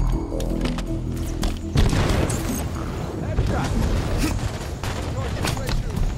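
Incoming gunfire and explosions in Halo 5: Guardians on the Regret map, a dense barrage of booming blasts and rapid shots that keeps going throughout, loud and close, with a voice speaking over it.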